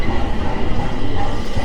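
Riding an MRT train in Metro Manila, a steady loud rumble of the moving carriage fills the space with low continuous rolling noise and no voices.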